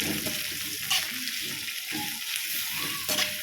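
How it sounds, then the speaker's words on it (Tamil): Sliced onions and curry leaves frying in hot oil for a roadside-style salna, giving a continuous close crackling sizzle with faint scraping stirs underneath and no voices. "இது நல்லா பொரிஞ்சதுக்கப்புறம் நம்ம வெங்காயம் சேர்த்துக்கலாம் நான் வெங்காயம் கருவேப்பிலை சேர்த்துட்டேன்"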